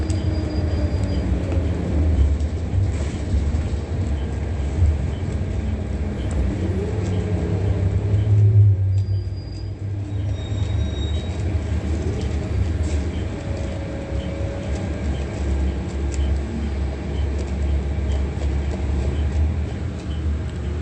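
A Metrolink train at the Fontana station makes a continuous low rumble and rolling drone for about twenty seconds, fairly loud and steady, with a brief dip partway through and faint squeals above.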